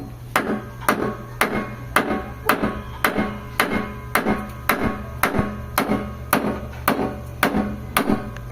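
Steady metal-on-metal hammer blows strike a heated carburettor, about two sharp, ringing taps per second in an even rhythm, close and loud with no talking.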